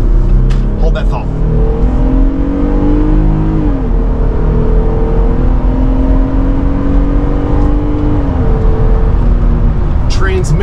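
A Jeep Gladiator Mojave pickup truck accelerating hard, its engine note climbing steadily in pitch through a gear shift, loud and close from inside the cab, with a voice speaking briefly over it.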